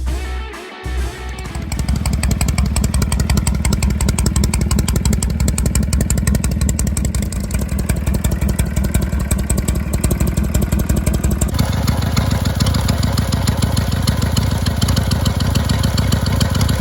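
A Harley-Davidson Twin Cam engine with a Screaming Eagle EFI race fueler fires up after a brief start and settles into a loud, steady, lumpy idle with a rapid throbbing pulse close by.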